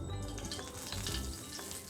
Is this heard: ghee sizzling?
yes